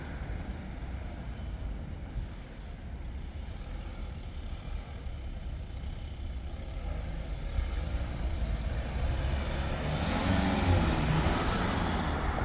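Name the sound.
Foton Tunland V7 bakkie driving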